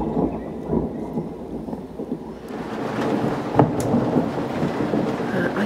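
Thunder rumbles through a thunderstorm over a narrowboat, a low sustained roll that swells midway with a sharp crack, backed by steady rain and light wind.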